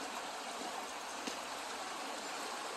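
A river flows along its bank, a steady broadband rush of water running continuously at close range with no voices over it.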